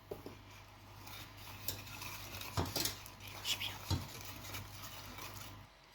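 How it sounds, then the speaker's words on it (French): A spoon stirs a panna cotta mixture of sugar and cornstarch in a pan off the heat. Quiet scraping and several light clinks against the pan sit over a faint hum. "Ensuite, il faut bien mélanger, mais sans le feu."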